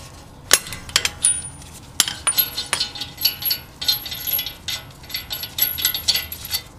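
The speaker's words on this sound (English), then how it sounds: "So now you just take your lug nut off." A lug nut is taken off a wheel stud on a 5th Gen Toyota 4Runner, with a series of close metallic clinks and rattling ratchet clicks that arrive in quick irregular bursts.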